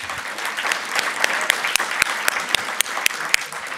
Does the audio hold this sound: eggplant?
no